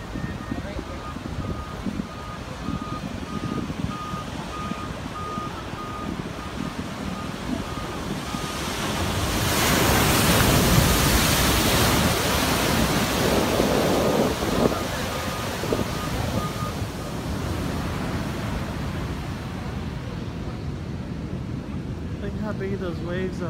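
Ocean surf at Santa Monica beach, rolling waves with constant wind buffeting the microphone and a louder breaking surge in the middle, while people talk intermittently nearby.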